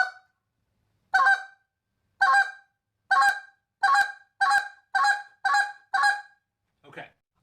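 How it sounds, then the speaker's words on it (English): A goose call blown with the quick spit technique sounds eight sharp, loud honking notes at a steady, quickening rhythm, each clipped short, followed by a fainter raspy note, with silence between blasts. "So this is the quick spit again."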